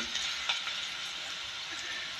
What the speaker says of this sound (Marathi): कांदा सोनेरी रंगावरती तळून घ्यायचा